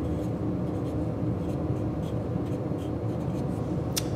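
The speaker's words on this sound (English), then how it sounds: "so I can just write that in here." Marker or chalk writes on a board with soft, scratchy strokes in short bursts over a constant low background hum.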